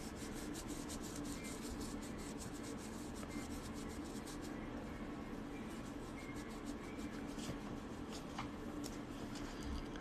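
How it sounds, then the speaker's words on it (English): A quarter coin is polished flat with a polishing cloth, making a steady, close, continuous rubbing and rasping that runs without a break for the whole stretch. "I like to polish them off with a polishing cloth"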